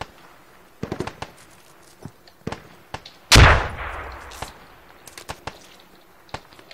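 Gunfire in the Squad military video game cracks in scattered single shots, one loud near blast standing out with a long rumbling tail, other reports sharp and distant-sounding.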